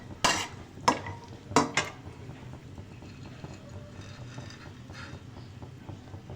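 Dry fruits and raisins being roasted in ghee with cardamom: a few sharp metallic clinks of a spoon against the pan early on, then a soft, steady sizzle underneath.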